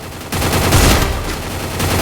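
Video game gunfire cracks out as a rapid burst of shots aimed for headshots, loud and close, beginning abruptly after a brief quieter moment and continuing without pause.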